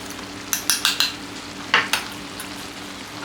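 Spice masala for chhola being stirred in a frying pan: a run of scraping, clattering utensil strokes over a soft sizzle, close and fairly loud, with quieter frying between the bursts.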